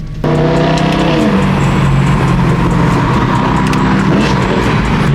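A BMW E92 M3 drives hard, its engine roaring loud and close with rising revs and a brief tire squeal, continuous throughout without any voices.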